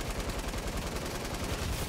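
Rapid SMG fire in Fortnite, a dense, continuous burst of automatic shots with a steady rattling rhythm, heard alone without speech.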